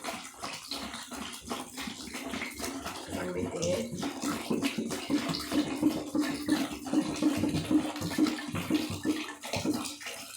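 Water splashes and gurgles into a container in a continuous stream while making dishwashing liquid, fairly close, with a few clinks and some talk underneath.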